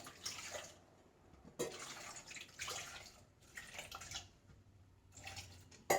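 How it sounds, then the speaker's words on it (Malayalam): Water is poured from above into a pot of washed sweet potato pieces in several splashing bursts separated by short pauses, soft and close, with no talk. "ഇനി നമുക്ക് അതിലേക്ക് ആവശ്യത്തിനുള്ള വെള്ളം ഒഴിക്കാം"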